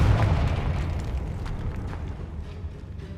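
A blast from the Confringo fire spell booms out in Hogwarts Legacy inside a goblin mine, a heavy low rumbling explosion at the start that slowly decays into a lingering roar across the whole moment.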